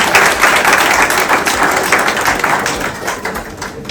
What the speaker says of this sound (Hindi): तो एक जोरदार तालियां हो जाए।